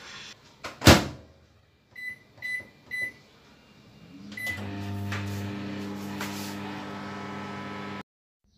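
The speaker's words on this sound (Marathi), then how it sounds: "आता हे बाऊल मायक्रोवेव्हमध्ये 3 मिनटासाठी आपण ठेवून देऊया व मायक्रोवेव्ह स्विच ऑन करायचा." Microwave oven heating a bowl of cabbage: a sharp door slam, three keypad beeps, then a steady hum as it runs for several seconds before cutting off abruptly.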